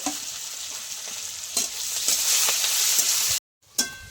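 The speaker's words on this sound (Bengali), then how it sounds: "দিয়ে পেঁয়াজটা ভালো করে একটু ভেজে নেব" Onion fries in a pan with a close, steady sizzle, broken by a few scraping stir strokes and a brief silent gap near the end; no one speaks.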